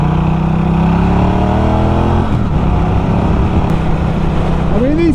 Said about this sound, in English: Just gives us a bit of a chance to go through that 5-speed box and open this bike up.